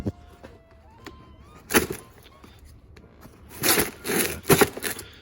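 A Milwaukee knife cuts open a parts package containing a spool for a turbo LS Caravan build. A short crunching tear comes first, then louder bursts of ripping and crackling plastic near the end, close by with no talk.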